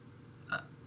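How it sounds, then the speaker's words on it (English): A single short, muffled burp, quiet and close, over a faint background hum. "Excuse me, I just burped."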